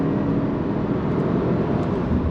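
A Subaru WRX with an automatic CVT accelerates hard on throttle, heard from the cabin as a steady, fairly loud engine and road roar without speech.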